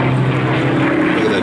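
A Spitfire flying past at the Wings Over the Illawarra 2018 air show, a loud, steady piston-engine roar close by, with a commentator talking over it.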